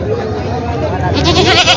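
Goats bleat at a goat and sheep market in Parbhani, with several loud, close calls rising in the second half over a busy crowd of people talking.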